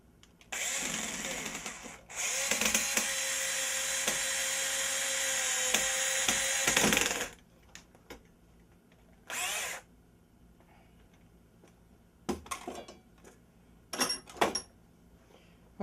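A power drill whines loudly in two long bursts pre-drilling holes into wood for a homemade eggbeater TV antenna, followed by shorter spurts and clicks with quiet gaps between.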